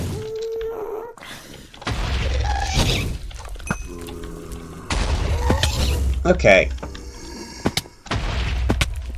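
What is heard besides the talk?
explosions in Minecraft server Monumenta, video game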